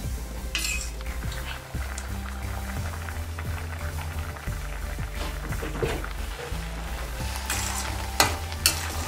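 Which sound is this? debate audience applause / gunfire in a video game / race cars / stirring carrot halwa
stirring carrot halwa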